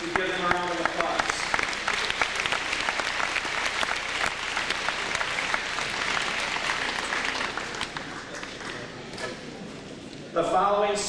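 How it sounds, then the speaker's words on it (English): A crowd at the Faribault High School awards assembly claps steadily for honored students for about ten seconds, with a voice on the loudspeaker at the start and again as the applause ends. "We give them a round of applause."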